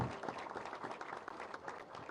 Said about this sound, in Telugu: అందరూ ఈ సందర్భంగా చప్పట్లు కొట్టాలి ప్లీజ్